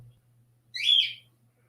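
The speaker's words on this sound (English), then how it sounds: "And there goes the bird." A pet bird gives a single short, bright whistle, close and clear over a low steady hum in a quiet indoor room.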